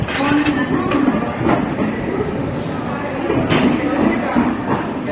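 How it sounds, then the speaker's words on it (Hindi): Mumbai Hyderabad Express train arriving at Karjat station, a continuous close rumble of rolling wheels with scattered metallic clicks and clanks and a high squeal near the middle. "Mumbai Hyderabad express is arriving shortly."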